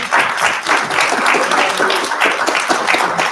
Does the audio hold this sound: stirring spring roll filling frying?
no